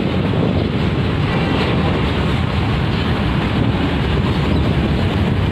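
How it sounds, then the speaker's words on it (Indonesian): Strong wind blows hard into the microphone, producing a loud, unbroken rushing roar with heavy low-end buffeting for the whole stretch. "Anginnya makin kencang ya."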